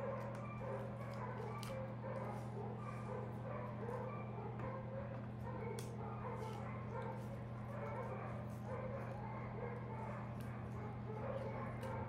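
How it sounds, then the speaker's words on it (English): Hybrid bird dogs in an outdoor kennel at feeding time, many of them barking, yipping and whining at once in a constant overlapping chorus over a steady low hum. A voice talks over the noise. "And the problem with that is I have some hybrid bird dogs."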